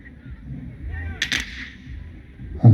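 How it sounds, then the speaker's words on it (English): At a Civil War reenactment, a cannon gives off a small, brief pop with a short crackle, a distant-sounding burst after a quiet outdoor hush, and a low thump follows at the end. "If we just get little pops, it means all of our guns are safe because all the gunpowder's out of them."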